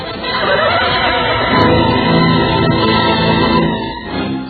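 A horse neighs in a radio drama sound effect, a loud, sustained whinny that carries through the clip and trails off at the end.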